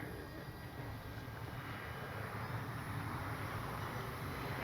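FMS PC-21 Pilatus RC model airplane flying on a sunny day, a faint steady engine drone with a windy wash, heard from a distance without talk.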